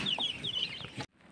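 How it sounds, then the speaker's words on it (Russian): Cobb 500 broiler chicks cheep and cluck in a brood: a close, busy chorus of high peeping calls that cuts off abruptly after about a second. "Какой красивый цыпленочек."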